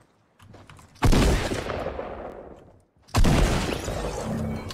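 Gunfire in Fortnite, two loud bursts of rapid shots, each crackling for about two seconds before fading, with a brief quiet gap between them.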